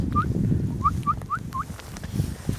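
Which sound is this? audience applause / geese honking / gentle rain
geese honking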